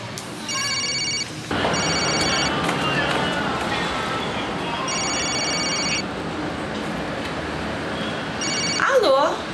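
A telephone rings in bursts of repeated electronic trilling tones, loud and close, with a dense background of scene noise and a voice briefly heard near the end, from a 2016 comedy film.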